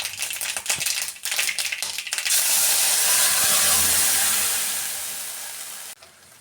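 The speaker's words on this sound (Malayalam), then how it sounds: "നമുക്ക് കടുക് പൊട്ടിച്ചിട്ട് ഒന്ന് താളിച്ചും കൂടി എടുക്കാം" Mustard seeds spluttering in hot oil for tempering a dried red chilli chutney: scattered crackling pops at first, then a loud, steady hiss of sizzling oil that slowly fades, with no talk.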